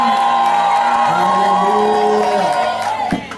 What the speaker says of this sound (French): Come on, can we get a shout from Bonek?